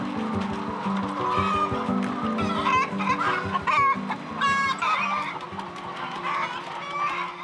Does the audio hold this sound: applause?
no